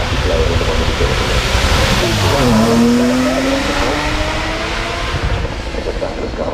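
A Lexus supercar with carbon fibre construction and a naturally aspirated V10 accelerates hard off the start line at the Goodwood Festival of Speed. A loud, continuous engine roar swells, its pitch climbing steadily midway as the car pulls away.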